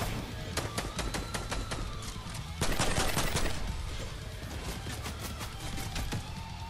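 Gunfire crackles in Fortnite, with rapid bursts of shots from several weapons. A dense volley hits midway, then scattered single cracks follow. The shots are fairly close and loud.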